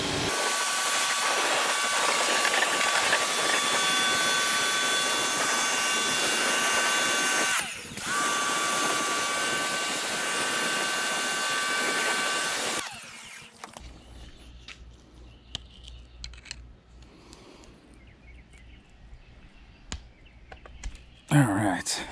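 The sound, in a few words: pressure washer spraying motorcycle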